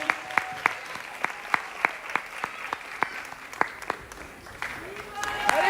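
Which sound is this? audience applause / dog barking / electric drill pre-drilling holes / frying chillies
audience applause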